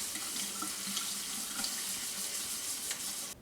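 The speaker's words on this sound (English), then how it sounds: "I'm gonna rinse this in cold water for a little bit just to get off the extra starches." Cold tap water runs steadily over rice being rinsed in a kitchen sink, a continuous close hiss and splash with faint grain rustles, no talking.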